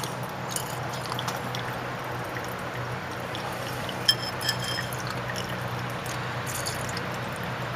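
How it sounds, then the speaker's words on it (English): Rinse liquid pours during gold pin refining, a steady soft trickle and splash with a few small clinks of glass near the middle, close and alone. "We will rinse this until these papers are absolutely white."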